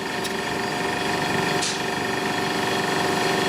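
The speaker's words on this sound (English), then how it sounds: "I can hear the refrigerant start boiling off in there." A steady mechanical hum drones on without pause from a slightly damaged old refrigerator's compressor running close by, with refrigerant boiling inside.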